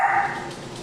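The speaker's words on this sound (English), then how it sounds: "my yappy chihuahua." A chihuahua gives a brief yapping bark, a single short high-pitched yip close to the microphone.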